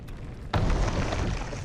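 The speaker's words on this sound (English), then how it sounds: "We'll get the extra loud explosion, normally means that's it" A sudden, loud blast in the Empyrion Galactic Survival space game, hitting abruptly and then rumbling on as a dense, sustained roar rather than fading quickly.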